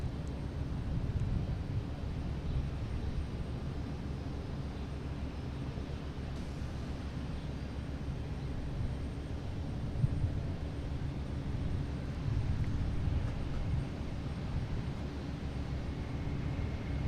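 A JetBlue Airbus A320 on Flight 773 bound for Aruba at Boston Logan airport, heard as a steady, broad jet engine roar with a low rumble, continuous and moderately loud throughout, with no voices over it.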